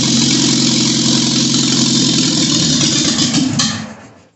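Engine of a 1980 Triumph TR7 running with the choke pulled, a loud, close, steady idle with a rough pulsing note that dies away as the engine cuts out at the end.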